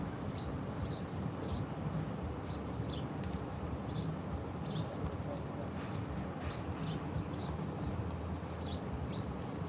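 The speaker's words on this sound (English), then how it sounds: "Listen to that bird." Small bird singing by a riverside in Cambodia, a repeated bright chirping phrase roughly every half second, fairly near, over a steady bed of outdoor ambience and distant traffic-like rumble.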